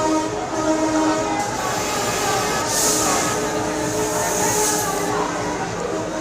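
A crowded passenger train packed with Eid holiday travellers, people even filling the roof, rumbles steadily along the rails with a continuous mechanical din, while voices are heard under the noise.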